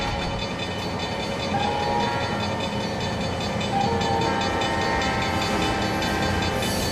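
A freight train hauling wood chip hoppers rolls past in the Trainz 2022 railway simulator, a loud steady rumble with rail clatter and faint horn-like tones throughout, no speech.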